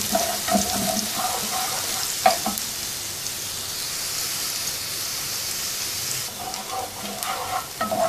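Onions sauté in a pan for Pakistani Punjabi-style pakora kadhi, a soft continuous sizzle broken by a few sharp scrapes and clinks of a spoon stirring against the pan.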